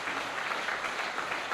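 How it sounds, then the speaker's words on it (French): Steady applause from a crowd, dense and continuous throughout, with no voices standing out. "Mathilde, sous vos applaudissements."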